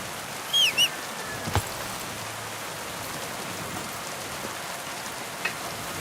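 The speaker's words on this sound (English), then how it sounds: "it's raining now." Rain falls steadily as a soft, even hiss in the video game Kingdom Come Deliverance 2, with a brief bird call and a faint thump rising over the wash early on.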